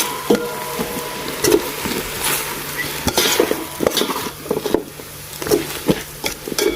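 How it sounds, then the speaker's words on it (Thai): Curry paste and pickled bamboo shoots dry-roasted without oil in a pan over medium heat, with repeated scraping and clacking stir strokes against the pan over a soft, steady sizzle, close and moderately loud. "คั่วแห้ง ๆคั่วให้พริกแกงกับหน่อไม้ดองเข้ากันก่อนนะคะ"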